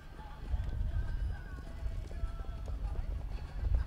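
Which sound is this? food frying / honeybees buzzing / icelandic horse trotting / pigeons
icelandic horse trotting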